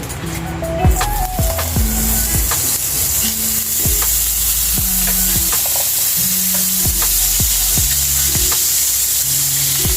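Oil and butter sizzle steadily in a frying pan while starting pork giniling, a loud continuous hiss broken by repeated clinks and scrapes of a utensil against the pan.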